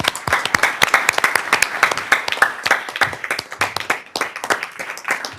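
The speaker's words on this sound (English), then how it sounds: "So please join me in giving these young women athletes a round of applause" An audience at a school district board meeting claps for young women athletes, a lively, fairly close round of many hands with distinct individual claps, tapering slightly near the end.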